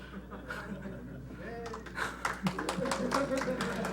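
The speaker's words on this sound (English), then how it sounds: "I've gotten so much applause this talk." An audience at a tech talk on cell phone security laughs and breaks into scattered clapping that builds into brief applause, with a voice speaking over it at first.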